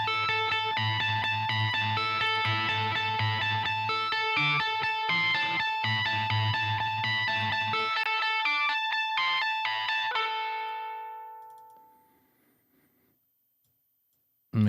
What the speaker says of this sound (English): This is probably something to do with high gain tones, so I'll add an overdrive.